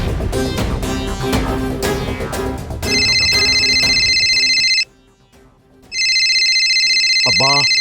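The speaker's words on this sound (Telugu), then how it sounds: "గౌరీ అన్న ఇప్పుడు కాల్ చేస్తున్నాడు." Electronic phone ringtone repeating in two loud bursts with a brief gap between, following a stretch of background music, in a Telugu short drama.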